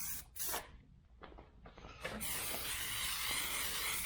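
A spray can applying vintage matte black paint to a 1976 Chevrolet El Camino, a few short hissing bursts followed by a long continuous spray, close but quiet.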